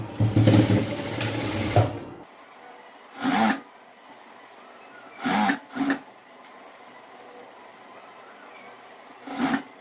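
A sewing machine stitches along a marked line on a boat neck top in a loud two-second run, then gives several short separate bursts between quiet pauses.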